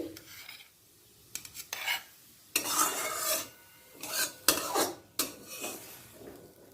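A spatula scrapes sautéed fenugreek greens out of a wok and into another pot, with repeated rasping metal scrapes and clanks in irregular strokes, close and fairly loud.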